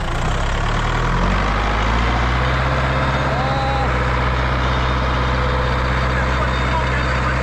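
A heavy farm tractor engine strains at a loud, steady drone while its wheels slip, stuck under the load of two full grain trailers at harvest, with the low rumble running through the whole clip and a voice faintly audible.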